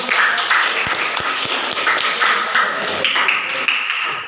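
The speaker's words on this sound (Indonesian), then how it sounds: "Berikan aplaus untuk" An audience at an Indonesian teacher-training presentation session applauds, a loud, dense patter of close clapping with scattered sharper claps that carries on steadily throughout.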